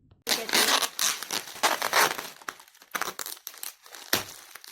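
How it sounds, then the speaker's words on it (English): Paper bouquet wrapping with cellophane being crumpled, folded and secured with tape, a continuous close crinkling and rustling with sharp tearing bursts, no talking. "We'll wrap and secure it with the tape too."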